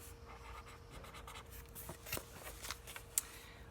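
Pen scratching across paper as someone writes the words "bad dream" by hand, a few soft strokes and taps close by, quiet and without talk.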